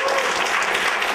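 Sustained applause from an audience at a meeting and event technology gathering, dense steady clapping with no breaks, fairly loud and close, with a faint murmur of voices underneath.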